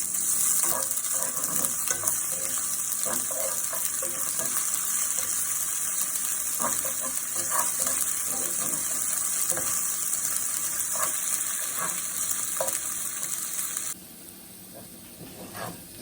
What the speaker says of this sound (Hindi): लहसुन अदरक हमारा फ्राई हो चुका है।